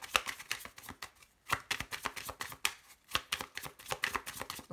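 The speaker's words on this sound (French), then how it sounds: "je les tire parce que j'ai très peu de cartes" Tarot cards being shuffled and drawn, a steady run of quick papery riffles and flicks with two brief pauses, close and fairly soft.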